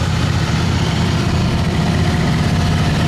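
A John Deere lawn mower engine idles with a loud, steady low rumble and vibration, continuous and unchanging, with no talk.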